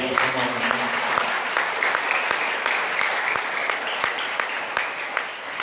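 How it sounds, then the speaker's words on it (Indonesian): An audience at an evening Islamic lecture and book discussion applauds with dense, sustained clapping, moderately close, that fills the whole stretch with a faint voice underneath. "Sekali lagi aplaus untuk beliau."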